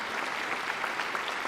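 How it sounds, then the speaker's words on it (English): Audience applause at a school district convocation, a steady, moderately loud field of clapping from a large crowd that does not let up. "Please help me give him one more round of applause for his blessings,"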